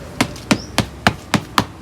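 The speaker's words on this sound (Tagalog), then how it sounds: "Pinupok niya si Saikad." Six evenly spaced, sharp pounding knocks on a cycad plant during repotting, each a short dull thud with a bright attack, close and loud with no talking.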